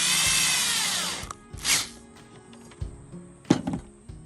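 A power drill drives screws into Temu end tables during assembly, with a few short whirring bursts between knocks and handling clatter, close and fairly loud.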